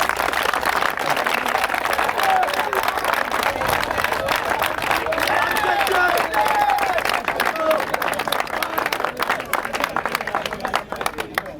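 Crowd clapping and cheering at an open-air Christian evangelism gathering in the Deux Plateaux neighbourhood, steady dense applause throughout with scattered shouts, loud and close, no clear speech over it.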